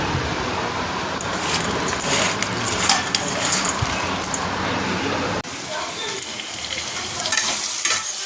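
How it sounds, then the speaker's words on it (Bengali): Diced potato and pointed gourd fry with spices in a pan for a curry in a home kitchen, giving a loud, continuous sizzle broken by scraping stirs close by. Near the end it briefly dips quieter. "আলু পটলও ভাজছে, মশলা কষা হচ্ছে"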